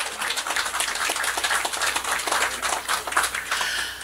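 An audience at a hotel groundbreaking ceremony gives a steady round of applause, dense overlapping hand claps filling the room at even loudness throughout, with no talking over it.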